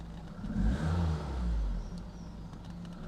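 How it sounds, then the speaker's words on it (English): A 1990s Alfa Romeo 155 with the 1.8 engine idles in neutral, then takes a brief rev that swells and settles back. The low engine rumble is fairly quiet and steady, with no talking over it. "Give it a little rev."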